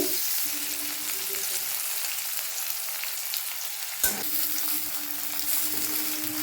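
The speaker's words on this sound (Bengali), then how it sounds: "কড়াইতে তেল দিয়ে পেঁয়াজটা ভেজে নিচ্ছি" Onion frying in oil in a wok gives a dense, even sizzle close by, with a brief clatter midway before the steady hiss resumes.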